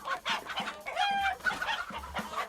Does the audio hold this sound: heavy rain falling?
no